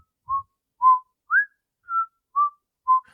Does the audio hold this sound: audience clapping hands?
no